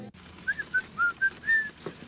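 Someone whistles a short, bright tune of five quick notes while working in a zoo camel pen, fairly close, over a quiet background.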